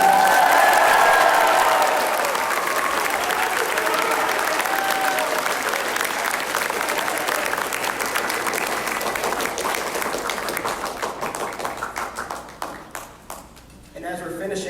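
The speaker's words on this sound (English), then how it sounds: "Let's give a round of applause." Audience at a school winter choral concert applauding the pianist Henry Handy, dense sustained clapping with a few cheers that thins out toward the end, with a voice speaking over it.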